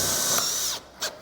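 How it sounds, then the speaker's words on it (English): A power drill drives a self-sealing tech screw into a metal roof panel on a garden room build: a close, loud high whine that winds down, then two short quick bursts. "we're just going to put some of these self-sealing tech screws again in the high bridges"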